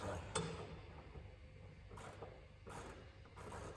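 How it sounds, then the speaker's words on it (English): A ratchet wrench turns a socket in short bursts of quick, fine clicking, separated by brief pauses, heard fairly close but quiet with no talking. "Thank God for this ratchet on it."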